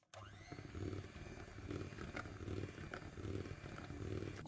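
Avocado cake batter being stirred with a whirring mixer in a bowl, a steady buzzing drone with slight rises and falls throughout, close and fairly quiet, no talking.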